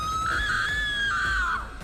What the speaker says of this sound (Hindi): ये सब देखकर प्रिया जोर से चिल्लाती है